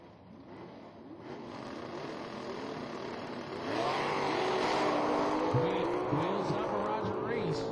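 At a drag strip, a Superstock J automatic drag racing car rumbles and then revs hard at launch, its engine rising to a loud sustained roar, while a voice over a public address speaks above it.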